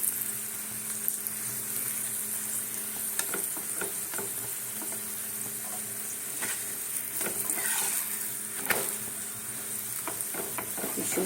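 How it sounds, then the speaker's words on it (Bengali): A radish-stuffed paratha frying in oil in a pan as it is flipped, oil spitting: a continuous dense sizzle with frequent sharp pops and crackles spread across, close and steady, with no talking. "আমি এইদিকে উল্টাচ্ছি, আমার দিকে তেলটা ছিটিয়ে আসছে আমার দিকে।"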